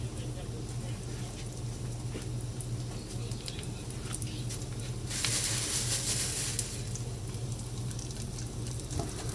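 Pea-based veggie burger patties fry in a pan with a steady close sizzle and crackle that swells louder for a moment partway through. A voice talks over the cooking.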